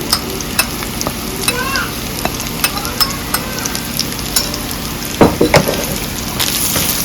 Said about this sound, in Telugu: ఇలా తిప్పేసుకొని ఒక 5 నిమిషాలు సిమ్లో పెట్టుకొని వేయించుకుందామండి.